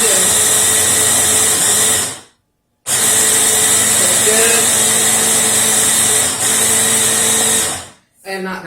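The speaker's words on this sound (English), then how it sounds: "I'm just gonna blend it in. Pulsing it." A kitchen blender whirs loudly in short pulses while blending Thousand Island dressing, with two bursts of steady motor roar separated by a brief stop and cutting off again near the end.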